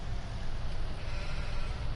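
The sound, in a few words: sheep bleating in Farming Simulator 19 video game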